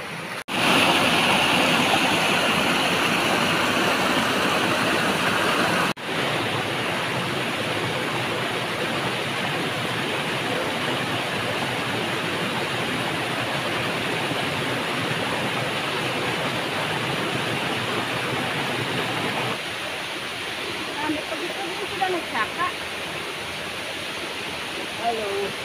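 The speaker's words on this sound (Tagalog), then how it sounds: "narating na rin natin itong natawag nilang Maslog Falls dito sa sakop po ng Pilar, Barangay San Silvestre" Maslog Falls waterfall in Barangay San Silvestre, Pilar, Capiz, a steady loud broadband rush of falling water that continues throughout, with a brief voice near the end.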